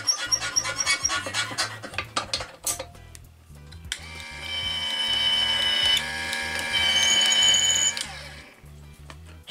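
A reloading press cranks 5.56 brass into 300 Blackout cases, producing repeated close mechanical clunks and clicks in a steady rhythm, followed by a stretch of grinding, whirring motion.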